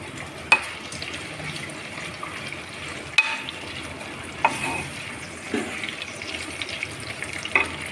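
Onions cook with garam masala in a pan for chicken biryani, giving a faint, soft sizzle broken by a handful of sharp scraping clicks as a spoon stirs at irregular intervals.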